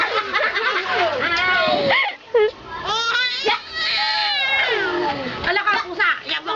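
A cat meows repeatedly in drawn-out, wavering cries, close and fairly loud, with people talking over and between the calls.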